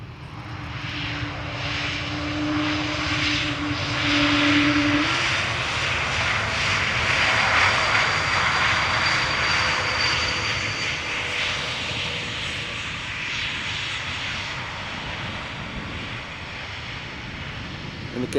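Airliner engines at Amsterdam Schiphol Airport roar in a sustained, broad rumble with a whining tone, swelling and then easing slowly as the aircraft passes at a distance, outdoors with wind.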